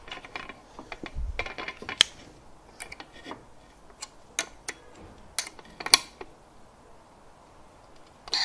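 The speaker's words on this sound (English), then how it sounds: "I'm going to use my wrench to tighten it a little bit" Wrench tightening M5 screws on a bartending robot's metal frame, heard as a quiet series of sharp metallic clicks and ratcheting ticks, irregularly spaced and close by, with no talking.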